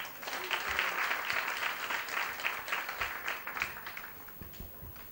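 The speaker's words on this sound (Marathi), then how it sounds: "आणि मी रिक्वेस्ट करते की तुम्ही प्लीज स्वतःकरता जोरात टाळ्या मारा." An audience at a Women's Day event claps loudly and steadily, the dense applause holding strong before gradually thinning toward the end.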